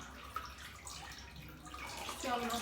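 Water splashing and running while a pet is washed in a tub, a soft continuous watery wash with small splashes, faint, with voices talking faintly at times.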